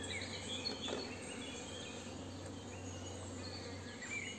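Honey bees in a mini-plus hive give a faint, steady low hum, with thin higher buzzing and chirping insect sounds layered over a quiet outdoor background.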